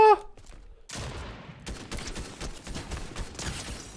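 Gunfire in Fortnite Chapter 3 Season 2 no-build mode: dense, rapid bursts of shots rattle continuously after a short quiet start and stay loud to the end.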